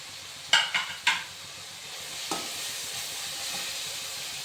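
Crushed shallots drop into a hot pan of mutton biryani masala with a few quick clattering clinks, followed by a steady, close sizzling hiss of frying.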